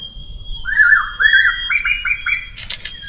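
A bird gives a series of bright, rising and falling whistled calls close by, followed by a few sharper chirps.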